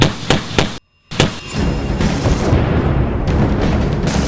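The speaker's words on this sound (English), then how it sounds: "An explosion rang out" A T-90M tank exploding: a few sharp, loud bangs, a split-second of silence, then a heavy, sustained roaring rumble.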